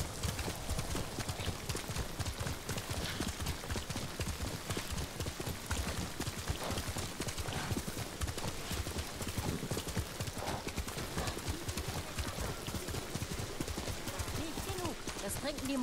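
Rapid horse hoofbeats in Ghost of Tsushima clatter steadily at a gallop, dense and close, with a busy background of other noise throughout.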